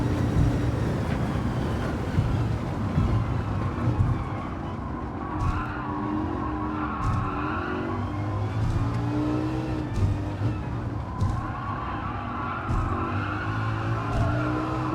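A Lamborghini Huracan LP610 races through a video game circuit, its engine droning and revving continuously while tires squeal and skid through corners at intervals.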